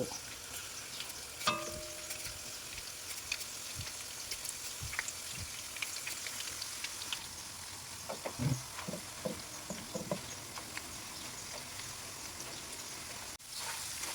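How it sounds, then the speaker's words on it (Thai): Raw banana slices, peel still on, deep-fry in oil with a soft, steady crackling sizzle like light rain. It stays fairly faint, with a few brief clinks and scrapes and a louder cluster of bubbling partway through. "ทอดไปแบบนี้เรื่อยๆจนกว่ากล้วยจะหมด"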